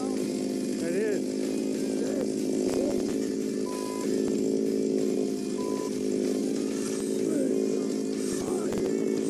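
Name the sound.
power ice auger drilling through ice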